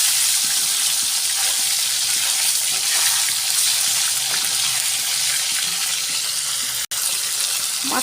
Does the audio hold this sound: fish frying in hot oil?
yes